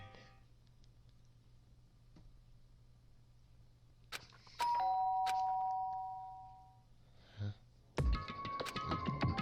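In the Danganronpa video game a doorbell rings with clear, sustained electronic chime tones. Quiet background music plays before and after it.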